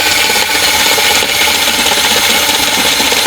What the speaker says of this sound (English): You just drill the old rivet off.